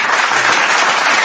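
Dense hand clapping fills the whole brief moment, loud and close, steady with no gaps.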